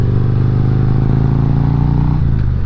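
A Harley-Davidson motorcycle riding on wet pavement, its engine a loud, steady low rumble that dips in pitch near the end, heard up close from the rider's position.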